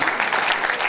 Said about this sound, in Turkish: Hepsine ayrı ayrı şöyle kuvvetli bir alkış gönderiyorum.